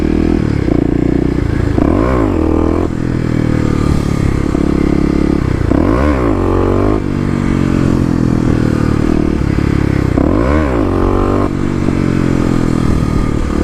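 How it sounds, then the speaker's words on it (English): Kawasaki KLX250 dirt bike in second gear for wheelies in a lot, engine revved out hard in repeated rising surges, loud and close with rattly mechanical noise. "Second gear, you really need to rev it out, it seems like."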